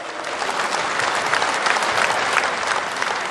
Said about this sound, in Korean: 경선관리요원의 헌신에도 격려의 박수를 보내주시면 감사하겠습니다